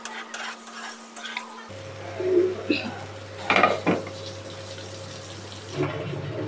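Marinated mutton drops into a hot pot of cooked-down masala and is stirred, with clattering spoon scrapes and knocks against the metal pot over a continuous close sizzle.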